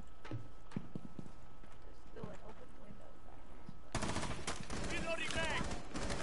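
Gunshots in Rainbow Six Siege: quick scattered shots early on under a steady background, then a dense loud stretch of firing and game noise in the second half.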